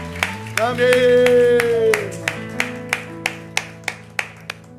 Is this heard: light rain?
no